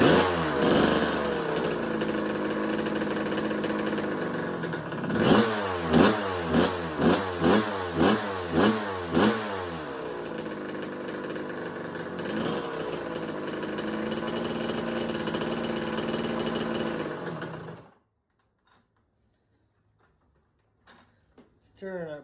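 A Kawasaki KX125 dirt bike with a no-start, no-spark fault runs loud and steady close by, with a series of rhythmic revving pulses midway, before cutting out into near silence with faint clicks.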